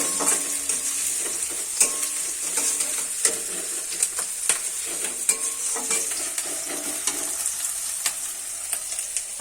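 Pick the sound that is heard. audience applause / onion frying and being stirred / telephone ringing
onion frying and being stirred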